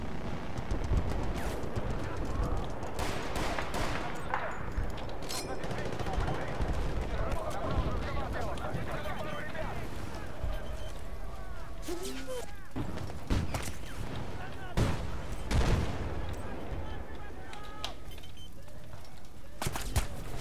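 Rapid gunfire in the online shooter Battlefield Bad Company 2, with bursts of automatic fire and scattered shots cracking throughout, some loud and close, others more distant, mixed with battle noise and someone talking over it.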